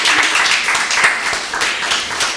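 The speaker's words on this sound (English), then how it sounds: "I think you deserve a beautiful round of applause for what you're doing." Audience applause at a televised talk show honoring actress Emelia Brobbey, steady dense clapping from a crowd filling the whole moment, loud and continuous without pause.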